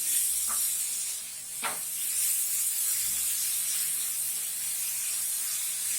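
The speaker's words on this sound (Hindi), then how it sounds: "हम इसे हल्के से भून लेंगे।" Shredded cabbage fries in a pan over high flame with a steady, bright hiss and sizzle throughout, broken by a couple of light taps of stirring.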